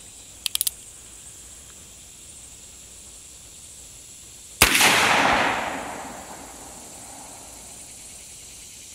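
A single loud gunshot from a .357 Magnum Uberti Cattleman revolver with factory Federal ammunition, fired outdoors. A sharp crack is followed by a decaying echo, and a few small faint clicks come earlier.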